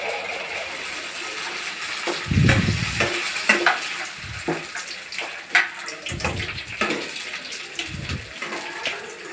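Pani puri crackles and sizzles in hot oil, a steady frying hiss broken by bursts of bubbling and occasional low stirring thumps, close by.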